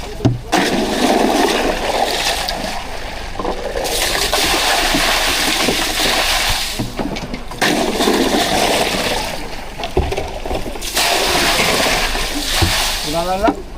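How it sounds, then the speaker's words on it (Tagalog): Water poured or dumped in at sea beside a buoy after the power is cut, a loud continuous rushing splash in several long surges with brief pauses between them. "Lagyan natin ng tubig."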